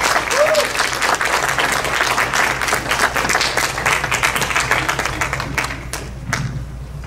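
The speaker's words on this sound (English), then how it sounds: "please join me in welcoming to the stage my mentors, Dr. David Donnally" An audience applauds to welcome a couple of speakers onto a stage. The clapping is dense and sustained for several seconds, with crowd noise and some thumps mixed in, and it thins out slightly toward the end.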